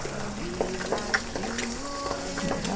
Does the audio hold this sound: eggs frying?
yes